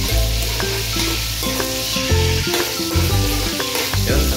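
Tomatoes frying with ginger in a pan, a loud continuous sizzle with stirring scrapes and clinks throughout.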